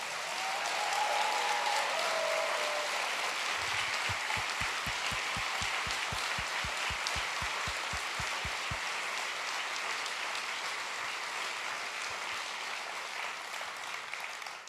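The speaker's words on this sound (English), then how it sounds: "applause for the Sir Ken Robinson for guest hosting this final session." Sustained audience applause at a TEDx event for a guest host fills the hall, a broad steady clapping that stays even throughout, while a run of low regular thumps, like rhythmic stamping or a beat, pulses underneath for several seconds in the middle.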